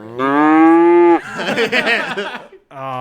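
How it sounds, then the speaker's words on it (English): Cow mooing sound effect, a loud, close, drawn-out moo followed by a rougher, wavering lowing that trails off, then another moo starting after a brief pause. "we'll just put a little cow sound there"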